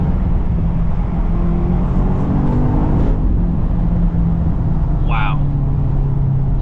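A BMW XM Label Red drones steadily as it drives and holds a turn, a loud, even engine and road rumble throughout, with a driver exclaiming briefly near the end.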